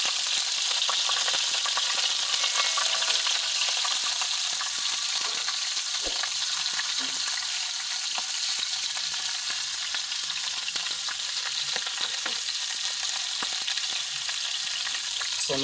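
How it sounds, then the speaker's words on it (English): Spicy meatballs sizzling and frying in a pan, a dense constant crackle and hiss with occasional clicks and scrapes as they are turned, close and alone. "So now let's turn our meatballs."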